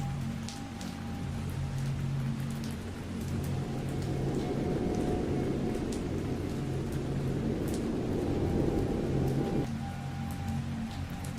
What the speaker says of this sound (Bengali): আর বৃষ্টির ঝিরঝির আওয়াজ